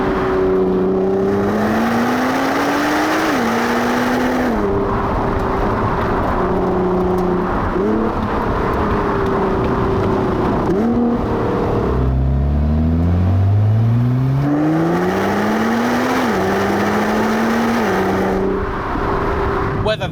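Nissan R35 GT-R Track Edition engine heard from inside while accelerating hard, rising revs climbing through several gear changes with brief dips between pulls, loud and continuous throughout.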